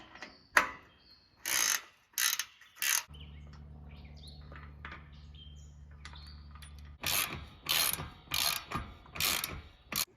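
A wrench ratchets on a metric 17 nut while loosening a camper awning arm, in bursts of rapid clicking with a quieter mechanical hum in the middle, birds chirping faintly outdoors.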